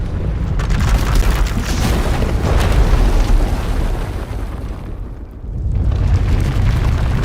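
A power eruption tears through an asylum in a Star Wars video game, Vaylin's power going out of control: a dense, sustained roaring rumble and blast with deep booming weight, dipping briefly before surging again.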